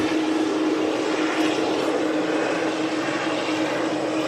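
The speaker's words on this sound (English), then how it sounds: "There you go, the Dash 8." Dash 8 turboprop aircraft at Manchester Airport, a continuous broad engine roar and propeller hum holding steady and fairly loud throughout.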